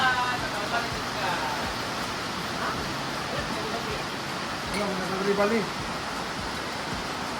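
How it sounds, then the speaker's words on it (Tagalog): Steady rain falls as a constant broadband hiss through the whole clip, with brief faint voices and household clatter over it. "It's raining na talaga, guys."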